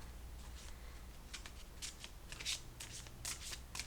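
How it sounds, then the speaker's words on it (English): A tarot deck shuffled by hand in quick riffling bursts, crisp papery flutters repeating close up in a quiet room with no talk. "I'll just give them a quick shuffle to get the energy flowing."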